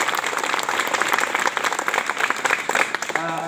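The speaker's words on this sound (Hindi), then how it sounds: "अनामिका के लिए जोरदार तालियां बजाइए सारे लोग" An audience at a Republic Day speech event breaks into loud, steady applause and cheering for a speaker, dense and continuous with a brief voice near the end.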